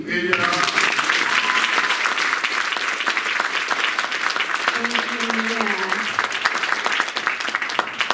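A seated audience at an oratorical contest applauds with sustained, dense clapping that stays loud and even throughout, with a few voices calling out briefly among the claps.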